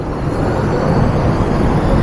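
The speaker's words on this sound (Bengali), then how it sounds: "ট্রেন এগিয়ে চললো।" A loud, steady low rumble and roar of a driverless suspended monorail train in motion in Wuhan, China, continuous and close, with no voices.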